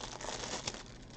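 Faux leather sheet handled up close, a soft continuous crinkling and rustling for about a second, quiet and alone.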